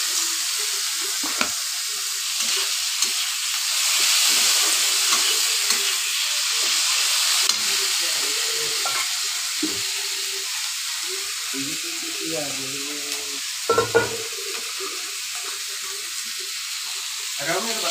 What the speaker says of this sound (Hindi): ये देखिए, इसको अच्छे से फ्राई करना है।